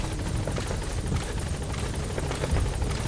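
A helicopter in the video game Metal Gear Solid drones with a steady rotor chop, continuous and fairly prominent from start to finish.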